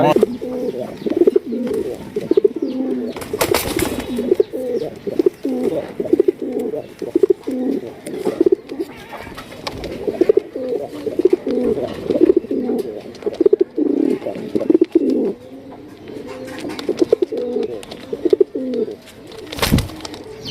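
Four female pigeons cooing continuously nearby, overlapping throaty coos in a steady rhythm, with a few sharp knocks and brief rustles.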